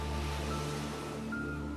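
Waves rolling onto the Cornwall coast make a steady, broad whooshing wash of surf, continuous and fairly loud with no voices over it.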